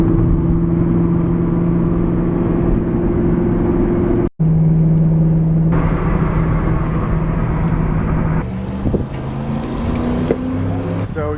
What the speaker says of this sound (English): I'm going to be driving a 5-speed Cobra